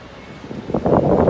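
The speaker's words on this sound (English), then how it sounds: "It's quite windy here" Steady wind buffeting the microphone on a walk down to a beach in Rio de Janeiro, growing louder and gustier toward the end, with a low rumbling roar and no voices.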